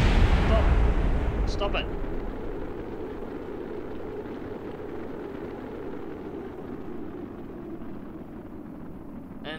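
Rocket parts exploding in the game Kerbal Space Program: a loud booming rumble at the start that fades into a sustained roar, with a few short crackles, while a voice talks over it.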